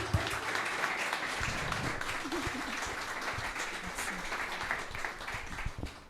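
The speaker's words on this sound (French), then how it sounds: "Applaudissez encore." Sustained audience applause at a victory celebration for ChebGang, dense steady clapping filling the space with a few voices murmuring beneath it.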